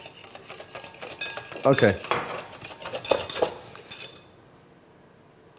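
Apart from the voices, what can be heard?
mixing mayonnaise with olive oil in a mixing bowl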